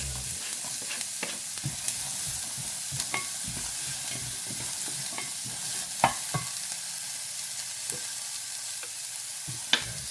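Onion stir-fries in a pan for an ampalaya guisado, sizzling steadily as a spatula scrapes and taps the pan in a loose repeating rhythm, close and alone.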